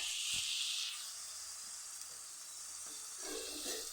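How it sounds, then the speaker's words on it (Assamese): Onion and carrots frying in a pan, giving a steady, close sizzling hiss throughout with a brief stirring scrape near the start and a louder crackle at the end. "পিঁয়াজটো ধুনীয়াকৈ ভাজা হৈ গৈছে।"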